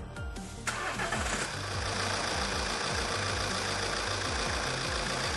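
A common-rail diesel car engine cranks briefly, catches and settles into a steady, knocking idle, heard close and continuous during a diagnostic check with no voices.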